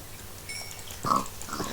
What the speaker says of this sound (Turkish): Domuz var.